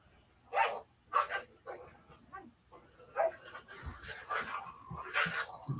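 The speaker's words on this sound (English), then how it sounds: "Puppies are running around playing." Puppies barking in short bursts and panting as they run around playing, the yips close and moderately loud, with a few background voices and household noise between the barks.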